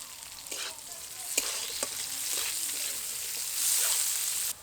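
Carrot, capsicum strips and chopped green chili stir-frying in a pan for fried rice, with a steady close sizzle and a few sharp scrapes of the spatula, growing louder near the end.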